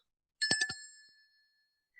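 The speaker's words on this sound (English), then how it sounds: "And so for this cute little souvenir brass bell" A small souvenir brass bell gives a quick jingle of three close strikes, then rings on in a bright, fading tone, with a faint second ring just starting at the end.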